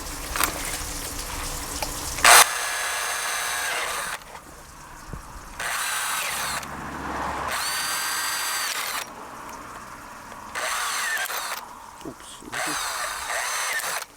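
A power drill bores holes into the underside of a pipe for a phytoremediation water system, running in several bursts of steady whirring separated by short pauses, loud and close.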